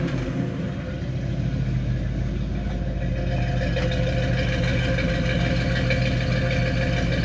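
A 1976 Ford F150 truck engine idles steadily up close, a constant low rumble with a faint rhythmic pulse and only slight swells in speed.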